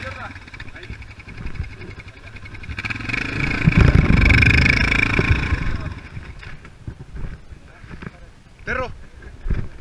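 A motorcycle engine revs up as the rider releases the clutch to climb a slope while holding the rear brake, swelling loudly mid-clip then easing off, with people talking over it.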